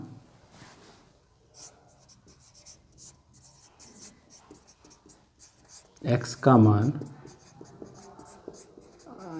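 A pen or pencil scratching out a math solution on paper, with light writing strokes and a louder rubbing burst partway through, under a man's speech.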